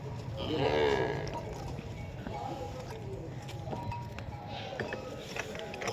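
A Jersey-Sahiwal cross cow lets out a low drawn-out moo early on, followed by quieter farm background noise and faint shuffling.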